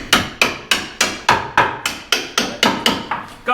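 About a dozen evenly spaced hammer blows drive a part into place, sharp, loud and close, each ringing briefly before the next in a steady rhythm.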